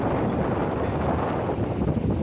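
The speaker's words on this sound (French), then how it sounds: "Il y a du vent, on va rien entendre" Heavy wind buffets the microphone, a loud low rumbling roar that fluctuates constantly throughout with no other clear sounds.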